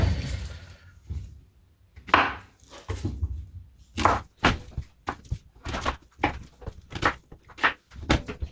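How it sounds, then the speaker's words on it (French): Knife chopping the ends off plantain bananas on a cutting board, a series of sharp, distinct thunks in an uneven rhythm with brief pauses, close and fairly loud. "On découpe juste les têtes de les extrémités de nos bananes plantain parce qu'on va les faire cuire avec la peau."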